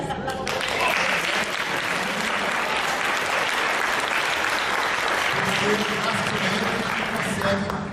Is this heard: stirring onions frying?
no